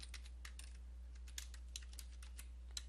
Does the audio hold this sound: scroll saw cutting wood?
no